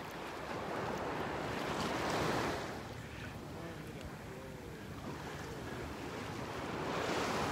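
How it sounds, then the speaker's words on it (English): Gulf surf breaks and washes along a beach at Delnor-Wiggins on an incoming morning tide. A continuous rushing roar swells and fades with each wave, mixed with wind buffeting the microphone. "These waves."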